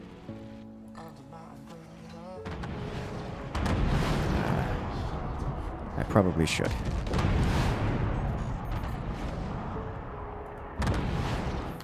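Artillery shells and cannon fire in the Forts real-time strategy game, a dense run of booms and blasts rolling through the clip, with a player talking over the battle.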